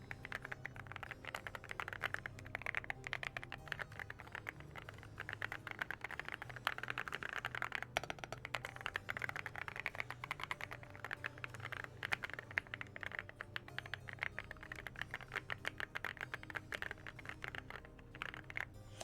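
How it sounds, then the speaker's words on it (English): Typing on a computer keyboard, a long stretch of quick, crisp key clicks tapping in a steady, busy rhythm, heard close and alone without any talk. "You guys want to hear how awesome my keyboard sounds? Hold on. Listen to my keyboard."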